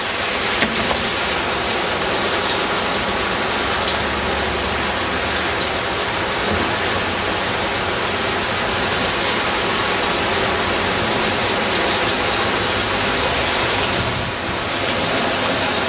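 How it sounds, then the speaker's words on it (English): Heavy rain pours down in a dense, constant hiss that fills the whole scene, steady and loud with no talk over it. "Big, big, big, big, big rain."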